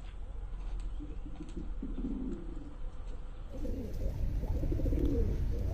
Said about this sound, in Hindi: देखो हमारे कबूतर कितने मजे से खेल रहे हैं